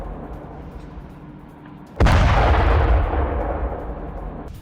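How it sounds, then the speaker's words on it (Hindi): A massive blast rips through an IRGC military warehouse in Iran during bombing: a sudden, very loud boom that rolls into a long, rumbling roar and slowly fades. "बमबारी से सैन्य गोदाम में भीषण धमाका हुआ।"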